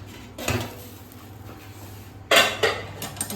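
A pressure cooker is opened after the gas is turned off, and steamed plates of Surti locho are lifted out: two bursts of clanking metal and plate handling, with quieter shuffling between them and no talk.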